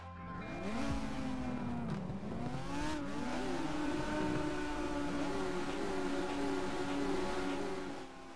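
Touring cars launching from the grid at Suzuka in a racing video game, several engines revving hard and climbing through gears together in a loud, sustained wailing chorus with no talk.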